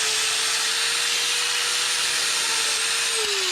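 A DualTools CS300 dual saw cuts through fragile PVC, giving a steady high motor whine with a gritty, broadband cutting rasp that carries on throughout and drops in pitch near the end.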